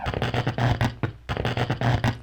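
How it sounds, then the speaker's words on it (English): Crackling static hiss from the Myst video game's Selenitic Age, dense and broadband, running in two loud bursts separated by a brief dip, with no voices. "Just some static."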